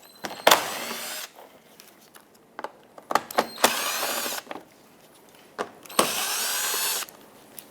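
A power tool whirs in several short bursts, removing 8mm screws from beneath the bumper cover of a 2014-2021 Mazda 6, with clicks and handling noises between bursts and no talking.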